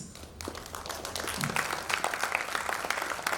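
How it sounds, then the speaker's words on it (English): Audience clapping at a summit, starting after a brief pause and building into a sustained round of many hands, moderately loud and fairly even throughout. "Please clap very well so she can wave at us more."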